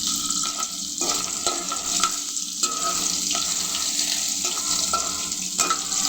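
Hilsa fish pieces frying in a pan, giving a steady, close sizzle and crackle that runs throughout, with brief stirring or utensil sounds breaking in now and then.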